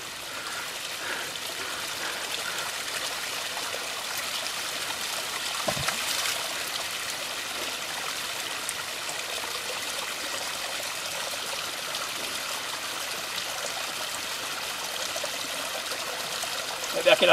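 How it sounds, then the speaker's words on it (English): Water trickles steadily into a bottle being filled outdoors from a natural source, a continuous soft splashing flow heard up close for the whole stretch with no one speaking over it. "he's filling up his bottle"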